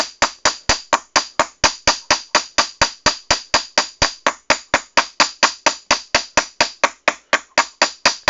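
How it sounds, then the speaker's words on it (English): Steady rapid hammer blows planishing sheet metal in a workshop, about thirty sharp ringing strikes in even rhythm over eight seconds, close and loud with no talking. "strong hammer hits when you're planishing"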